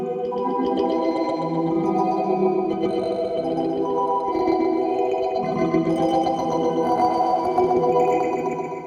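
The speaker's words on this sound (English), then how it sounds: "Here's an example of what it sounds like with a kalimba." A kalimba played into the internal microphone of a Torso S-4 sampler, its plucked metal tines turned into a continuous, shimmering wash with chorus-like warble, echo and slight distortion, sustained and loud throughout.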